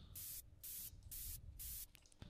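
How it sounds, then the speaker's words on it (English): Plain white noise bursts in a future house track, four evenly spaced hissing swells that cut on and off in rhythm, followed by a brief scattered tail, quiet and alone. "And also I added this white noise."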